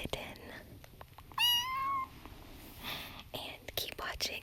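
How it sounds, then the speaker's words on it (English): Young female kitten giving one clear, rising meow, close and fairly loud, surrounded by soft whispered talk and light tapping in a quiet indoor setting. "she is my new kitten"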